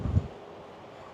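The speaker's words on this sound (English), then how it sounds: "That wind is really strong, man." Strong wind buffeting an outdoor hiking trail, a short low rumbling gust up close at the start that settles into a steady faint rush.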